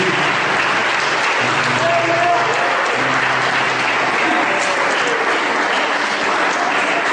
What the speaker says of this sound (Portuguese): Você pode, por favor, aplaudir essa palavra maravilhosa em nome de Jesus?